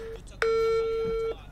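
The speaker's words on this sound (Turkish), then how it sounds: "Arkadaşlar şimdi Vales'i arayacağım." Phone call dialing tone, a single steady electronic beep lasting close to a second, clear and fairly loud against quiet background noise.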